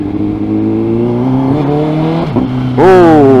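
A 2017 Honda CBR1000RR Fireblade fitted with a Graves slip-on exhaust drones loudly close by with a steady tone, then its revs sweep up sharply near the end.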